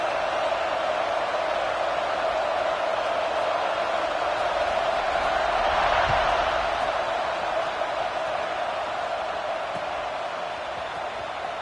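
Crowd in a football stadium just before a kickoff in a Penn State at Utah college game: a steady, dense roar of cheering fans, loud and continuous throughout, with a slight swell midway.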